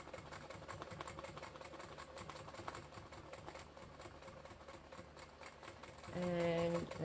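Sewing machine stitching free-motion quilting on silk, a steady rapid mechanical rattle running close throughout, swelling louder near the end.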